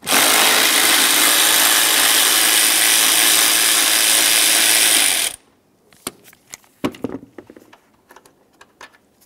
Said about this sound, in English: remove that 8mm headed bolt as well